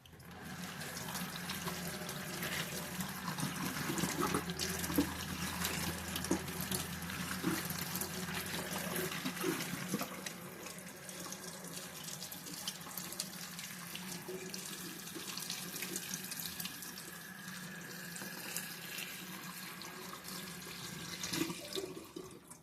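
Tap water runs steadily into a kitchen sink while local strawberries are washed under it. The flow is continuous and close, softening a little partway through, with no talking.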